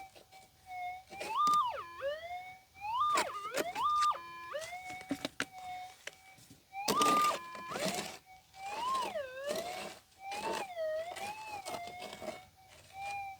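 A Garrett Axiom metal detector sounds over a buried target in a freshly widened dig hole, giving loud, close warbling tones that rise and fall in pitch in repeated bursts with brief pauses between them.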